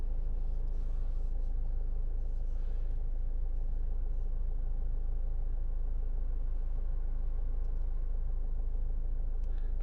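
A 2012 Land Rover Freelander 2 SD4 HSE 4x4 diesel runs steadily while driving, giving a continuous low engine drone and road rumble heard from inside the cabin, with no talk.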